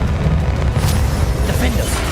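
A Bombarda spell explodes in the video game Hogwarts Legacy, a dense low boom that rumbles steadily through the whole moment with crackling debris above it, loud and close.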